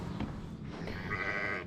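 A sheep on a small farm bleats once, near and fairly loud, over faint outdoor background noise.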